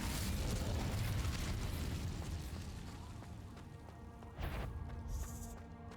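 An Incendio fire spell in Hogwarts Legacy erupts as a roaring, crackling blast that swells at the start, eases off, then flares again in a second burst, all at a quiet level.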